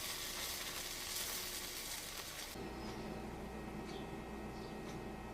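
A grilled cheese sandwich fries in a pan with a close, steady hiss and sizzle that drops to a softer, quieter sizzle partway through, with no voices.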